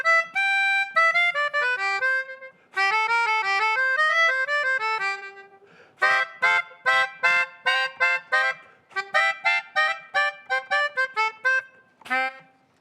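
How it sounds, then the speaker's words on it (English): Melodica, a keyboard and harmonica hybrid, playing reedy sustained notes in quick melodic runs, then shifting to short, punchy staccato chords toward the end, loud and close with no voices over it. "A harmonica board, it's a harmonica and a keyboard put together."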